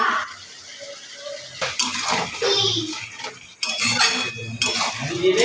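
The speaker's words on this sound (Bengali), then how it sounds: "মাংসের মধ্যে আলুগুলো দিয়ে এবার ভালোভাবে কষিয়ে নেব" A spoon stirs goat meat and potatoes in a cooking pot, giving irregular metallic scrapes and clinks up close with sizzling bursts between strokes, loud and uneven with no speech.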